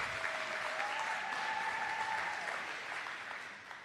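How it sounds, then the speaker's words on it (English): Sustained applause from a parent audience at a high school fall sports meeting, greeting a coach; a dense, steady wash of clapping that thins slightly toward the end. "Let's give Coach Chris Erickson a nice round of applause."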